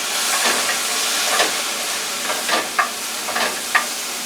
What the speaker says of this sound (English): That's just to make some steam.